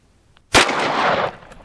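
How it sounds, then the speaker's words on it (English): A single sharp, loud shot from a Canik Rival-S steel-frame pistol, a sudden crack followed by a roughly second-long ringing echo that fades out, alone with no talk. "Let me take one more shot here."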